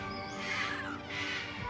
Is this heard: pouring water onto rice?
no